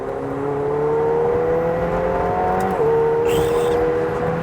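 A McLaren 720S engine drones steadily with a rising whine, loud and continuous, as if accelerating through gears; no voices.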